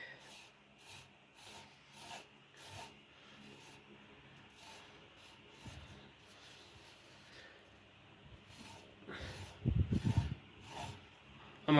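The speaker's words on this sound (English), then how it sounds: "I'm aware this is just mostly dust. I'm wiping it down anyways." A dusty Honeywell desk fan being wiped down gives soft, repeated rubbing and swishing strokes, close and quiet, with a louder burst of scrubbing near the end.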